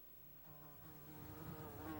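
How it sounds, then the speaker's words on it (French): A fly buzzes steadily for about two seconds, a continuous droning hum that slowly grows louder as if approaching, alone with no talking. "Notre prochain indice, cette fois-ci, nous vient de Zzz, la mouche."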